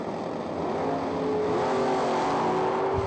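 A Superstock drag race car roars down the strip at a spring drag event, its engine note loud and steady, climbing in pitch as it pulls away.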